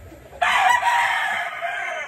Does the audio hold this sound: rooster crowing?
yes